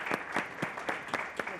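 Audience at a Peruvian investment forum session applauds a panel of business and civil society speakers, with steady, even clapping that fills the whole moment at close range.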